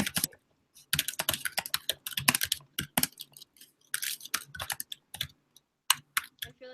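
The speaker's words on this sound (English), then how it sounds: "I have to quickly type it" Rapid typing on a computer keyboard, close and crisp, with bursts of clacking keystrokes broken by short pauses and no voices.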